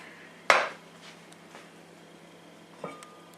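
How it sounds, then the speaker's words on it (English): A spoon strikes a cooking pot of toasting curry spices, making one sharp metallic clink and then a fainter scrape and clink a couple of seconds later, with no talking. "Give it a quick stir around"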